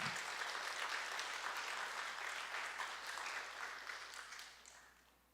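A church congregation claps together in a dense, fairly quiet patter that holds steady and then fades out toward the end.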